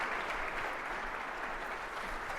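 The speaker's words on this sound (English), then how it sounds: "You might be clapping a little too prematurely" An audience at an evening speaking event claps steadily, a dense, even wash of applause filling the room at moderate loudness, with no voices over it.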